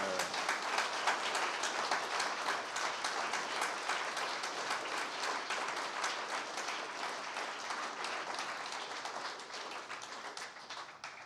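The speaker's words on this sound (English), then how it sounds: "they deserve a round of applause, another round of applause" A long, sustained round of applause for speakers at an AECtech 2023 closing session, many hands clapping in a dense steady patter that eases slightly toward the end.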